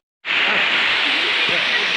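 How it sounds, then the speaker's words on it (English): Water flowing at Fortescue Falls in Dale's Gorge, a steady broad rushing hiss that starts abruptly and holds constant, fairly loud and alone. "You can hear the water."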